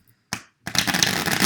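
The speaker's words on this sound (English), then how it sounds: "I'll begin by giving the deck a quick shuffle" A deck of playing cards gets a quick shuffle up close, first a single short riffle snap and then a dense, crisp flutter of cards riffling together.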